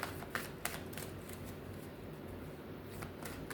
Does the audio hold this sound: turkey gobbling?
no